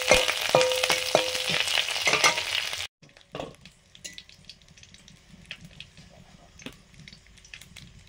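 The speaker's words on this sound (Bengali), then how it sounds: "চপগুলো ভাজা চলছে" Vigorous hot-oil sizzling as potato chops deep-fry, with quick stirring clatter for about three seconds, then it cuts to a much quieter, distant background with faint scattered clicks.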